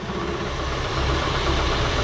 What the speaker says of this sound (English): let me show you how quiet this engine is